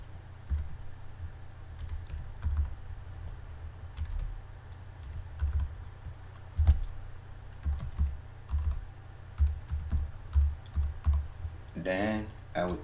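Quick, irregular keystrokes patter on a computer keyboard as an email address is entered, with soft clicks spread throughout and a voice speaking briefly at the end.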